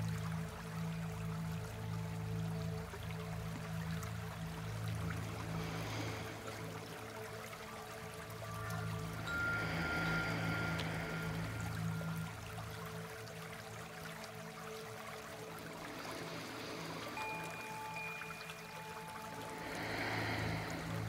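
Water droplets trickle and tinkle like a wind chime in water, in a gentle bedtime audio drama for children; a soft, steady liquid flow carries bright, bell-like tones that come and go throughout, with no voices.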